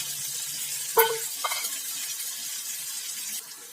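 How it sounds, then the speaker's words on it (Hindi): Masala with salt fries and is stirred in a pan over medium heat for chicken mandi, a steady close sizzle broken by a couple of sharp scrapes of the spoon, with no one talking. "इसे इस तरह से चलाते हुए 5 मिनट तक भुनेंगे।"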